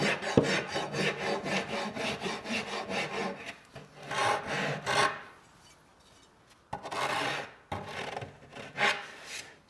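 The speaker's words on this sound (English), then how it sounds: "I can use this rasp just to float things out and make that a nice round corner." A hand rasp files a wooden corner round in a coach shop, with repeated rhythmic scraping strokes in quick bursts, a brief pause, then more strokes close up.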